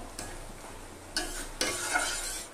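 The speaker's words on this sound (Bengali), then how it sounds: "চিংড়ি মাছটাকে দিয়ে নেড়ে ছেড়ে দিব।" Prawns frying in a pan for a banana-flower prawn ghonto, a steady sizzle broken by two loud stirring scrapes that bring surges of crackling oil, close and without talk.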